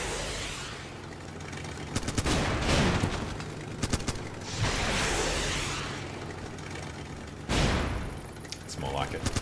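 Gunfire in the video game Running with Rifles, clusters of sharp shots and booming bursts over a steady engine drone, with a voice talking now and then.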